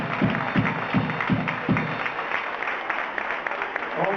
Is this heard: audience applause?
yes